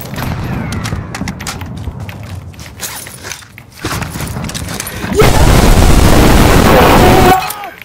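Call of Duty Modern Warfare 2019 gameplay: bursts of rapid gunfire crackle and boom, building to a loud, sustained stretch of shooting near the end, while a player talks excitedly over the action.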